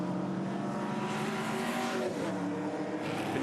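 A Total Ultima V8 touring race car at Pukekohe climbing toward a hairpin, its loud engine droning steadily with shifting pitch and a hint of tire scrub, heard close and alone without talk.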